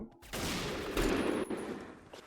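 Rapid bursts of AS Val rifle fire in the video game Point Blank crackle continuously for a couple of seconds, dense and fairly loud, with a slight dip partway through and no talking.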